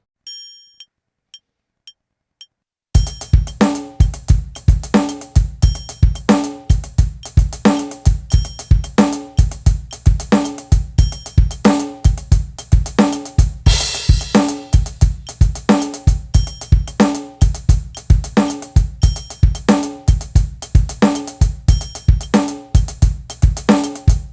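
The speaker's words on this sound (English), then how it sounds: "the long-short pattern between the kick and snare under that 3/16 grouping on the hi-hats sounds like this" A drum kit plays a groove with kick and snare in a long-short 5-against-4 pattern under hi-hats grouped in threes of sixteenths, loud, close and steady for about twenty seconds after a brief quiet start.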